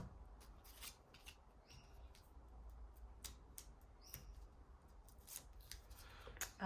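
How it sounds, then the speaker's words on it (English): Pinking shears snip through paper during card crafting, a quiet series of sharp, irregular cutting clicks heard close up in an otherwise hushed room. "I just use my pinking shears to add that sort of jagged edge to it."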